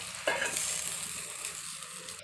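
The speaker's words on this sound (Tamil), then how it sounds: "வாழைக்காய் போட்டு அந்த எண்ணெயில் படும்போது எல்லா இடத்துலையும் பெரட்டி எடுக்கணும்." Plantain pieces tossed in hot oil with masala give a steady, close sizzle with a sharp burst of frying at the start, settling into a continuous hiss.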